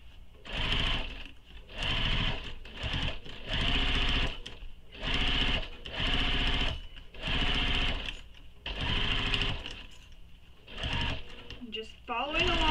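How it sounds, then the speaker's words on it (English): Sewing machine running in steady bursts of stitching along the curved edge of a nylon bag, loud and close, with brief pauses between runs and a short squeak at the end. "Now I'm going to sew that curved edge again, just like I did on the first panel."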